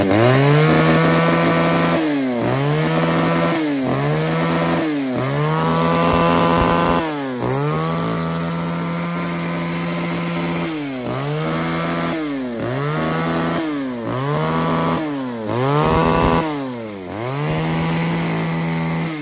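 Ryobi S29L mini top-handle chainsaw, a compact 3.5 kg pruning saw, running loudly and close with its small two-stroke engine repeatedly revving up and dropping back to idle in a steady cycle throughout.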